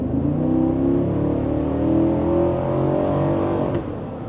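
A 2025 Cadillac Escalade Sport Platinum engine revs steadily in Sport mode with a ten-speed automatic, its loud, continuous drone rising in pitch through several seconds before easing off near the end.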